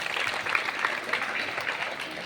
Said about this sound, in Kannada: ಜೋರಾದ ಚಪ್ಪಾಳೆ ಮುದ್ದು ಮಕ್ಕಳಿಂದ